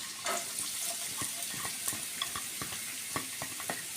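Onions fry in a pan with a soft, steady sizzle while a utensil stirs them, scraping and tapping at irregular intervals, close and fairly quiet, with no talk.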